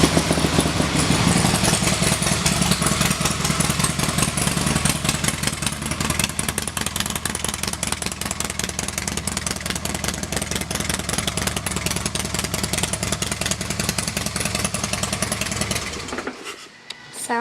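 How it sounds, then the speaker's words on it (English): A 2016 CVO Pro Street Breakout motorcycle idles with its exhaust running, giving a loud, steady, rapid engine pulse close by that holds for about sixteen seconds before cutting off abruptly. "Let's listen to the exhaust."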